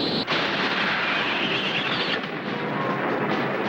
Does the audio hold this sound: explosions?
yes